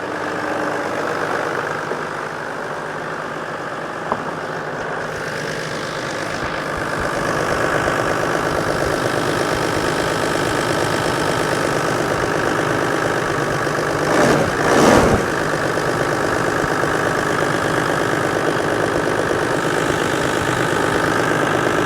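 A Toyota diesel engine idles steadily at close range just after starting, a continuous rumbling clatter that rises slightly partway through, with a brief clunk near the middle and no speech.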